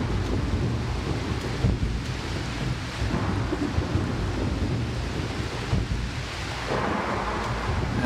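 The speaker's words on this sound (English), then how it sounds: "It's really raining" Steady heavy rain with deep rolling thunder in a video game, a dense continuous roar that swells and rumbles throughout with no talking.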